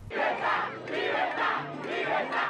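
Protest crowd in Tampa, Florida, shouting in unison in solidarity with demonstrations in Cuba, loud rhythmic chanting bursts repeating steadily and close.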